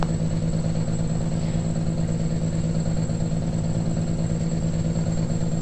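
Straight-piped Caterpillar 386 truck engine pulling hard under full throttle, a loud, steady, deep droning roar with a constant low rumble that holds evenly throughout, no voices.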